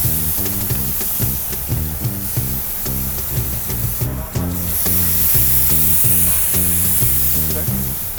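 Vegan al pastor sizzling on a hot griddle at a Mexican quesadilla stand, a steady loud hiss and crackle running throughout with a rhythmic thumping music beat underneath.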